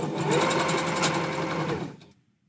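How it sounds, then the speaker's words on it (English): Sewing machine running a backstitch on handpaw lining, a fast, steady mechanical whir with rapid needle ticks for about two seconds, then stopping abruptly into quiet. "So always start with a backstitch."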